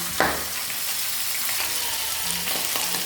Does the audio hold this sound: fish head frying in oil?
yes